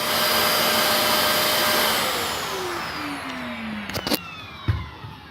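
Electrolux Precision vacuum cleaner running with a loud, steady motor roar that gradually winds down in pitch, ending in a few clunks and knocks.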